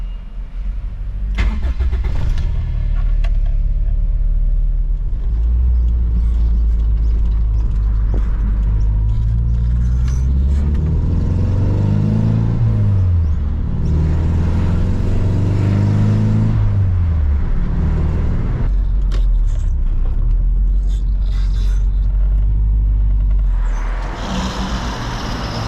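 A 1970s Toyota KE55 Corolla engine drones loudly from inside the car on the road, its pitch rising and falling through gears in long sweeps over a constant low rumble.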